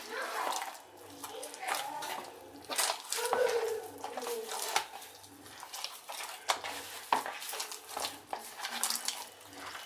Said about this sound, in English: Let's knead this.